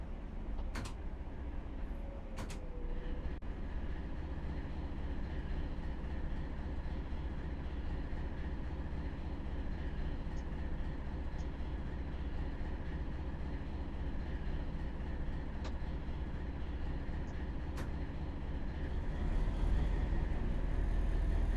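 A Thumper diesel train in Train Simulator 2017 runs between Manchester Victoria and Liverpool Lime Street, giving a steady, unbroken rail rumble with a few brief clicks and squeals on top, even in loudness throughout.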